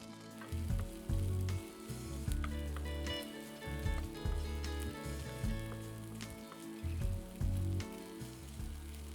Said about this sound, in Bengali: দিয়ে দিলাম দু চামচ মতো আদা বাটা আদার কাঁচা গন্ধটা চলে যাওয়া পর্যন্ত আমি কষিয়ে নেব